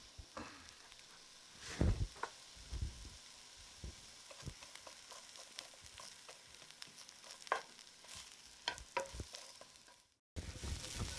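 Onions frying in a pan for calabacitas, a soft steady sizzle broken by occasional scraping stirs and knocks, ending with a brief silence and louder sizzling.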